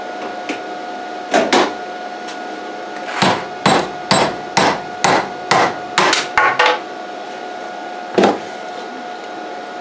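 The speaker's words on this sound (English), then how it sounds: "it's hammer time." A hammer strikes a test weld made with a Vevor 130 amp MIG/TIG/MMA inverter welder, trying to break it: about a dozen loud, sharp metallic blows in an uneven rhythm, some in quick pairs, over a steady background hum.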